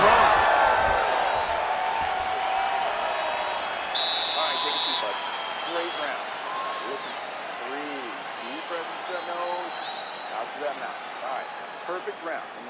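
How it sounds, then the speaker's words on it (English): Arena crowd in a UFC 5 heavyweight title fight video game cheering and applauding after a wild exchange, a steady broad roar with scattered whoops that slowly fades under a commentator's voice. "the crowd voicing its appreciation after that crazy sequence in the previous round"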